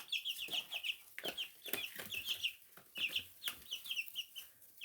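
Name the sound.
chicks cheeping and clucking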